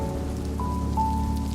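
Steady rain patters on a surface, with a faint high tone drifting in partway through; no voices.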